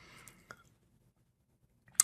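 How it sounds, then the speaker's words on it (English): Computer mouse clicking on a start button in a programming environment, a few faint, sharp clicks close by, one at the start, one midway and a crisper one at the end, separated by near silence. "Let's go ahead and run the application by clicking the start button."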